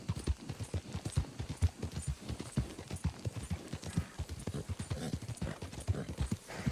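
Horse hooves clip-clop in the video game Red Dead Redemption 2, a brisk, steady rhythmic beat of close, moderately loud hoof strikes continuing throughout without talk.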